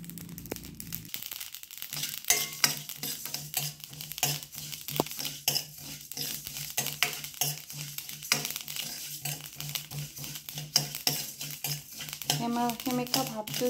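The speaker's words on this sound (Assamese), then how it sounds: "এনেকৈ গুটিখিনি মছলা আপোনালোকে এটা কেৰাহীত ফ্ৰাই কৰি ল'ব" Whole spices for mango pickle dry-fry in a kadai, giving a steady, close, busy rattle and crackle of seeds shifting against the metal, with a voice coming in briefly near the end.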